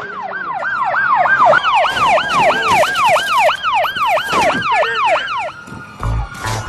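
Police sirens wail continuously in the video game GTA 5, a loud, fast rising-and-falling cycle of several overlapping sirens lasting nearly six seconds, then cutting off into a few short thuds.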